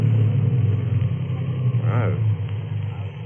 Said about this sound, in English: So I choked the car.